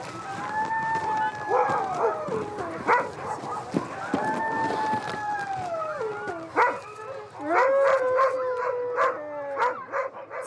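Pack of sled dogs in Norway's far north howling, yipping and barking together: overlapping rising and falling howls with sharp barks, close and loud, with people talking intermittently among them.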